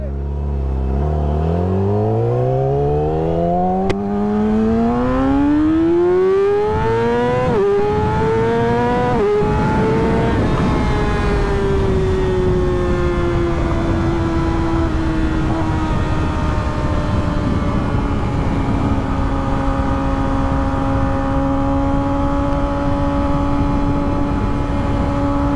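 A motorbike rides off, its engine climbing in pitch through several gear changes, then holding a steady, droning tone that stays loud and continuous for the rest of the stretch.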